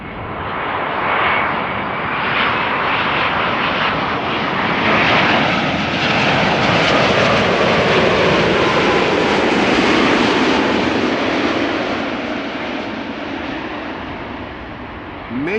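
Airliner PH-BKO passing close at Schiphol Airport, a loud, full jet roar swelling and holding for many seconds with a rising whine, then easing slightly toward the end.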